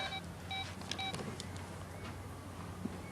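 Someone dialing a landline telephone at home: a series of short, evenly spaced electronic key tones, soft and close, over a faint room hum with no talking.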